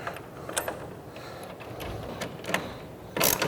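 Clamp on a tonneau cover rail being tightened by hand, a few soft ratcheting clicks and small mechanical taps, close and quiet, spaced irregularly.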